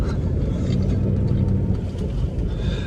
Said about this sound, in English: And at the moment I'm driving on a gravel road